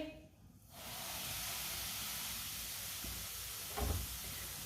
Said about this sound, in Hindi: घी हमारा गर्म हो चुका है। 1 प्याली सूजी डालेंगे।